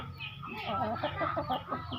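A bantam hen clucks in soft, repeated bursts up close, a steady run of short throaty calls with faint farmyard noise behind.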